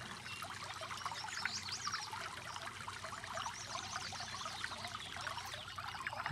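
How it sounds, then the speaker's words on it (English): Water is poured in the video game Farming Simulator 22, a faint, steady trickling and splashing that runs continuously with no talk over it. "So let's go put some water back into this"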